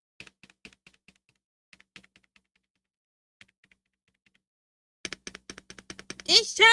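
Typing on a new computer keyboard: sparse, faint key clicks at first, then a quick burst of close, crisp keystrokes, and a voice coming in at the very end.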